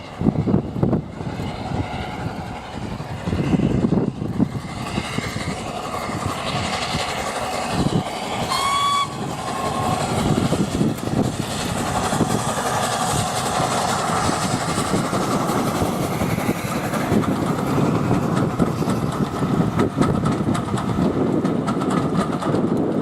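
Steam locomotive hauling a train up the bank from Bewdley towards Kidderminster on the Severn Valley Railway, a loud continuous chuffing rumble with rattling wagons, a short whistle near the middle, sustained throughout.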